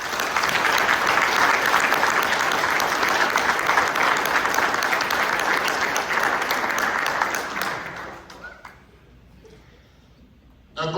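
Loud, steady applause from an audience at a municipal council swearing-in ceremony, sustained for several seconds before tapering off and falling quiet near the end.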